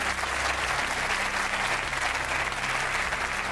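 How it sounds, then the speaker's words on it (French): A crowd claps steadily and densely throughout, a full, continuous wash of applause from an audience at an evening show, close and even in loudness with no pauses. "Vous pouvez applaudir"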